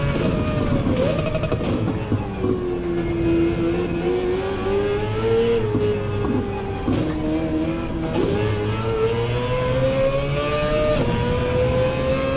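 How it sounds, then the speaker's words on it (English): Maserati engine in the Gran Turismo racing game revving continuously, its pitch rising and dipping through gear changes, loud and sustained with no talk. "Maserati engine noise is awesome"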